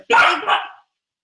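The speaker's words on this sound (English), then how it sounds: "Big bark." A dog lets out a loud, close bark, a single sharp burst lasting under a second, then silence.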